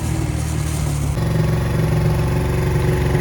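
A Honda SL100 motorcycle fitted with a Grom exhaust runs steadily and loudly up close, a continuous droning engine note that deepens and firms up slightly partway through, with no talking.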